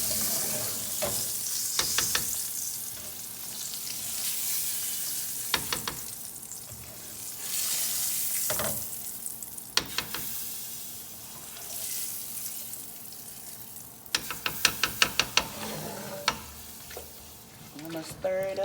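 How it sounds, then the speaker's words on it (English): Food fries in a skillet with a low steady sizzle while a spoon stirs and scrapes it in bursts of sharp clinks and taps, the loudest clusters coming near the end; faint water sounds drift underneath. "I'm gonna stir it up."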